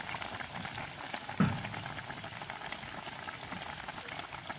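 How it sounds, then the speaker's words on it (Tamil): A pot of curry bubbles at a steady rolling boil, with soft continuous gurgling and one brief louder pop near the start. "கொதிக்கிட்டு வந்து பார்ப்போம் கறி இந்த மாதிரி இருக்குது. நல்லா கொதிச்சுட்டுது."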